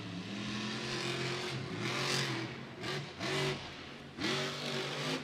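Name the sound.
monster truck engine revving in freestyle run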